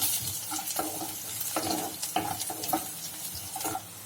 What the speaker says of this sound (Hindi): हल्का सा कलर होने तक हम दाल को भून लेंगे।